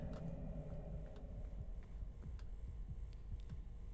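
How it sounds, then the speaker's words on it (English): A heartbeat from the horror game Forewarned thuds in a slow, steady low pulse beneath a constant electronic hum, with no voices over it. "We love the heartbeat."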